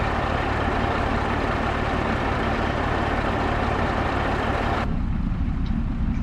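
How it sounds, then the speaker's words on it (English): A loud logging truck engine on a forestry job roars steadily and close, a dense continuous rumble with no talk, until the higher noise cuts off abruptly near the end, leaving a lower drone. "This truck is so loud. Extremely loud, this truck."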